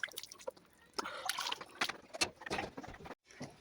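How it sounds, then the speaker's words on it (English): Water splashed onto a face by hand in a morning washing routine, heard as several close, wet splashes and trickles with brief pauses and a short silence near the end. "5 minutes later, I want to wash my face."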